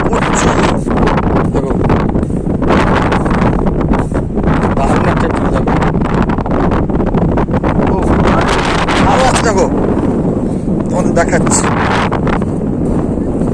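Strong wind buffets the microphone with a constant roar on Tajpur beach during a dust storm, while a person talks over it.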